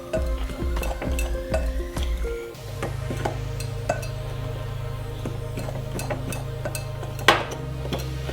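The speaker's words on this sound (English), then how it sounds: "you're going to mix this until it makes almost like a dough" Gooey butter cake ingredients are stirred together into a stiff dough in a bowl, with steady scraping and stirring, a few clinks against the bowl early on, then a continuous low churning rub, close and moderately loud, no talking.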